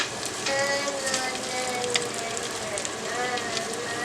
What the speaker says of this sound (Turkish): Etimiz de istediğimiz kıvamda kavruldu.